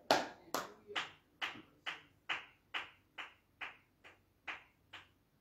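Congregation at a New Year morning prayer service clapping in praise, about a dozen sharp, evenly spaced claps in a steady slow rhythm, close and fairly loud, with no voices over them.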